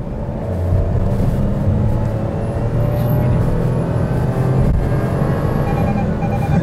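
Perodua car accelerating on the road, with steady, loud engine and road rumble building throughout from inside the cabin.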